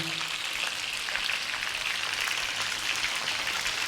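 Onion frying in a hot pan for chicken biryani after seared chicken, a steady close sizzle like light rain that holds evenly throughout without talk.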